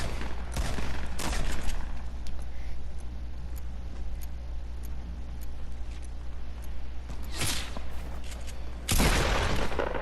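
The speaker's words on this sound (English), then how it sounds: "now I hear 3 people shooting around me" Several players shooting in Fortnite, a few sharp nearby gunshots at the start and again near the end over a steady low rumble, with faint distant shots in between.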